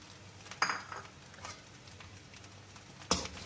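Spoon scraping and clinking against a pan while vegetable semiya upma (vermicelli) is stirred, with two sharper metallic knocks and soft shuffling in between, quiet and close.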